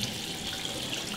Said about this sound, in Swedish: Det är varmt vatten.